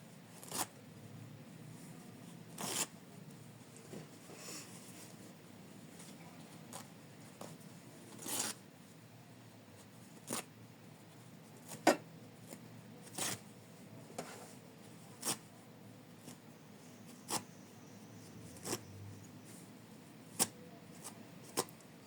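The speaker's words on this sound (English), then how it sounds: "we gently, really gently, tear away all the rest of the stabilizer" Faint, intermittent tearing and ripping sounds as embroidery stabilizer is torn away, short crisp bursts every second or two against a quiet background.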